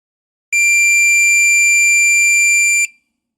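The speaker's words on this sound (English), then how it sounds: "Touch the positive and negative leads together, and the multimeter should beep." A multimeter set to continuity gives one steady electronic beep as its positive and negative probe leads touch together, a loud, clean tone held for a little over two seconds with no talking around it.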